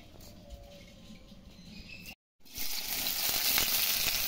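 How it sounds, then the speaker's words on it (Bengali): Onions frying until crisp, a steady close sizzle that drops out briefly to silence, then returns louder and fuller, crackling continuously. "প্রথমে আমি পেঁয়াজগুলোকে একটু মুচমুচে করে নিলাম"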